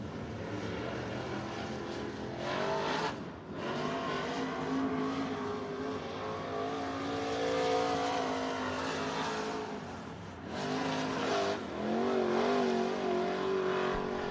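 Race cars roar around a dirt speedway in Coos Bay, engines rising and falling as they pass and accelerate, loud and continuous with brief dips between passes.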